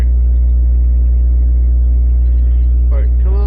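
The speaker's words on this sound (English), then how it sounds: "you can even hear the exhaust bubbling in there" An H1 Hummer sunk in a mud hole in the SpinTires video game, its engine droning steadily and loud, with brief burbling exhaust bubbles near the end.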